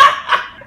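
A dog barks out at a koi farm, a short, fairly loud burst of two quick yaps close by, fading out with no talking.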